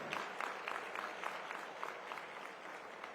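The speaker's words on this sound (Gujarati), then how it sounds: "સૈનિકો માટે પણ એક જોરદાર તાળીઓ થઈ જવી જોઈએ" A room full of people claps loudly for soldiers at a CREDAI Gujarat and Ahmedabad gathering with the Chief Minister present, a sustained, even burst of applause without talk over it.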